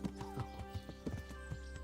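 A horse in Kingdom Come: Deliverance walks with a soft, steady clip-clop of hooves, faint and regular, with a low background hum beneath the footfalls.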